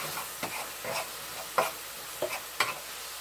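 Ground turkey fries in a pan under a soft continuous sizzle, broken by about five distinct scraping strokes of a spoon or spatula as it gets stirred, close and fairly quiet.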